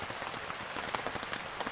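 Rain falls steadily at a lakeside fishing spot, a soft, continuous patter of drops with scattered sharper hits, fairly faint and alone without speech.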